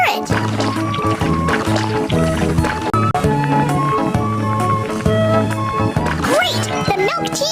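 Milk tea is stirred in a cartoon, with soft liquid sloshing and swirling under loud, bouncy background music that carries throughout.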